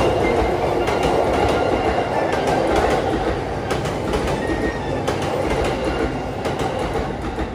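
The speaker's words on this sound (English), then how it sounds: "I'll be catching the Yamanote line train" Yamanote Line train in Tokyo, heard from on board: a loud, steady rumble with rhythmic wheel clatter and faint squeals throughout, with no voices.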